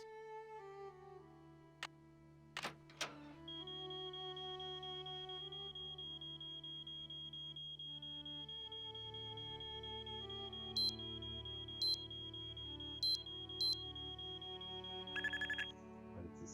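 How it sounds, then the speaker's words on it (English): An alarm in the video game Nancy Drew: Treasure in the Royal Tower sounds a sustained high electronic tone over a music bed, joined later by a few short sharp beeps, with no talking. "But it's a super annoying sound, the alarm."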